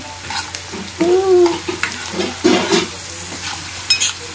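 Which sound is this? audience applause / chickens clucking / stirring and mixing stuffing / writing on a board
stirring and mixing stuffing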